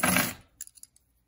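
A bunch of keys on a keyring jangles in a few light, close metallic clinks after a louder rustling handling noise at the start.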